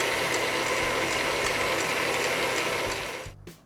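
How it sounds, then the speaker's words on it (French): An electric hand mixer whips cream with sugar for chantilly, a steady loud mechanical whirring that runs continuously and then winds down and stops near the end. "Ensuite, j'arrête mon batteur."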